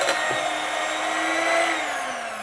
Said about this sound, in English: I'm going to mix this together.